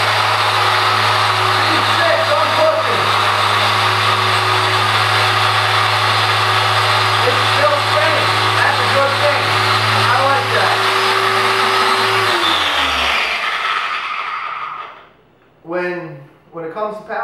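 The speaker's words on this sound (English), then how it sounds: "let's try and boggle it down. Let's put it under some real pressure." A 3D HD random orbital polisher running under heavy pressure, a loud steady motor whine and whir that holds for about twelve seconds before winding down to silence, followed by brief talking.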